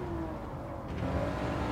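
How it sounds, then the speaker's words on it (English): Race car in the Gran Turismo 7 video game passing by at speed, a steady loud engine drone with a slight rise as it goes past, no talking. "Passing, racing by."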